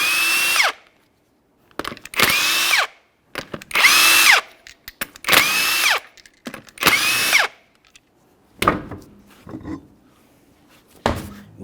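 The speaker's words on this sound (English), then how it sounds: "we're going to remove all 5 of our 19mm lug nuts" Impact wrench spinning off the 19mm lug nuts on the driver's side rear wheel of a 2008-2012 Jeep Liberty, five loud whirring bursts with a rising-falling whine, then a few shorter clattering knocks.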